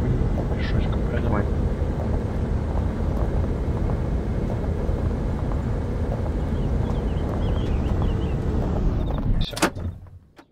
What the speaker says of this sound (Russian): Вертолет наш или нет?